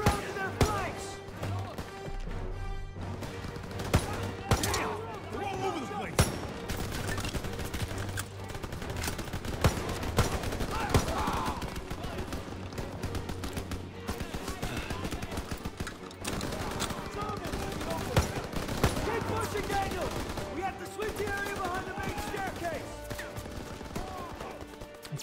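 Rapid, sustained bursts of World War II machine gun fire from an MG position on a staircase in Call of Duty: WWII, crackling steadily through a chaotic battle, with voices speaking amid the din.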